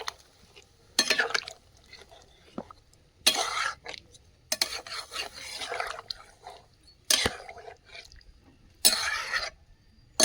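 Water is poured in several separate splashing bursts into a pot of half-cooked meat that is cooking outdoors over a wood fire. Quiet gaps fall between the pours.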